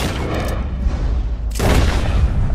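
A single heavy gunshot booms in Red Dead Redemption 2 as a man is shot in the chin, a loud sharp blast with a ringing tail over a steady background of game ambience, and no talk.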